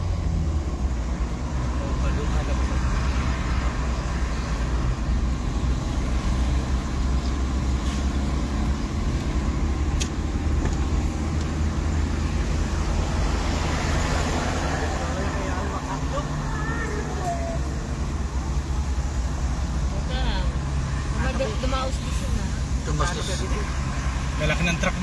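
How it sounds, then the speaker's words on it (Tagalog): Steady low rumble of large trucks' engines and road noise on a mountain peninsula road by the sea, trucks rolling past nearby throughout and faint voices in the background. "Lalaki ng truck dito, kaya doble ingat."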